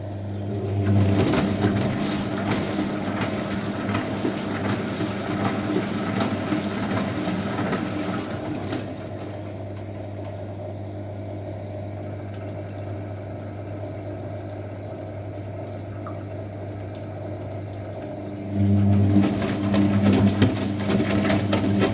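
A Zanussi Jetsystem Excel 1250 top-loading washing machine runs a spin rinse, a steady low motor hum with watery churning that eases mid-clip and then surges louder again near the end.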